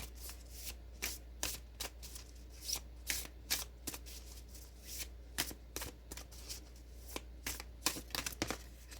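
Oracle cards from an Angels and Ancestors deck being shuffled by hand, a steady run of crisp riffling flicks and soft slaps repeating through the whole stretch, close and fairly quiet over a low steady hum.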